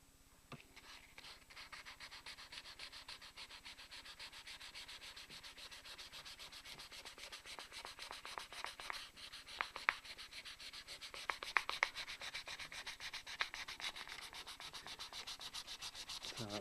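Close, quiet rapid rubbing of 1200 grit sandpaper on a guitar headstock, with steady back-and-forth strokes that grow slightly louder and scratchier toward the end, with no voices.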